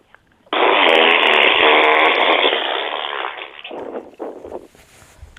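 A girl produces a long, loud fart sound on a live 2fm radio show, one sustained buzzing blast of about three seconds followed by a few shorter sputtering bursts.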